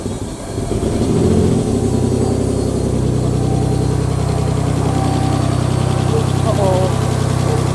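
A twin-turbo race car engine rumbles loudly at a steady idle, settling into a deep, even drone after a brief uneven start, close to the listener.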